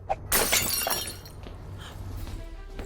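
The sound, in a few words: magic mirror shattering, cartoon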